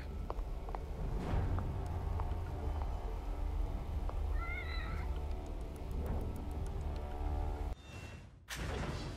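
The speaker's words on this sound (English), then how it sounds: "Oh, kitty cat." A cat meows in the horror video game The Evil Within, a few short rising cries heard midway over a steady game ambience with thumps, followed by a brief dropout near the end.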